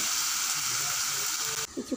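A paste of ground bottle gourd peel sizzles and hisses steadily as it is stirred in a frying pan, and then a voice begins speaking near the end.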